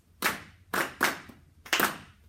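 Choir members clap a rhythm in unison, four crisp group claps spaced unevenly, two close together in the middle, with a hushed room between them.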